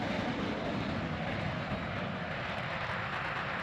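A MiG-15 jet in Microsoft Flight Simulator gives a steady, dense, broadband engine roar that holds unchanged and fairly quiet for a few seconds.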